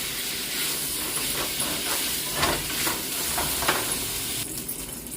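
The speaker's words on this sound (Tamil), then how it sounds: "நல்லா கருவாடு வந்து பொரியணும் இல்லை ஓரளவு சும்மா வதங்கினா போதும்" Dried fish (karuvadu) fries in a pan for a fish curry, with a loud steady hissing sizzle and occasional stirring strokes, heard close and with no talking.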